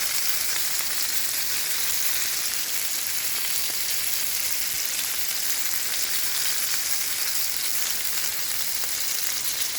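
A flipped steak sizzles loudly and steadily in a hot pan, a dense crackling hiss that stays constant with no voices.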